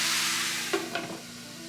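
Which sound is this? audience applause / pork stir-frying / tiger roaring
pork stir-frying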